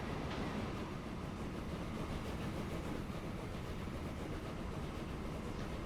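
Trains rolling through the Transport Fever 2 railway simulation give a steady, dense low rumble with faint rail clatter, continuous and even throughout with no talk.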